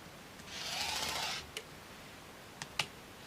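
A rotary cutter or blade slices a 1.5 inch fabric strip, a soft scraping swish lasting about a second, then a few faint clicks and taps, quiet and close.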